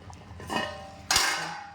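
A metal lid is lifted off a pot of shark curry cooked with kudampuli, giving two clear metallic clanks about half a second apart in an otherwise quiet kitchen.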